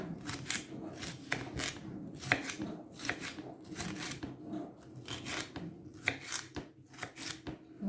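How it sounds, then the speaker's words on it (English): A knife slices through a pepper on a cutting board in a home kitchen, giving a steady rhythm of crisp, close chopping strokes with no talk. "Slicing the pepper."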